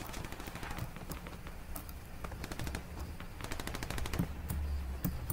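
Rapid bursts of video game gunfire crackle throughout, sharp repeated shots in quick rattling volleys, fairly faint in the mix.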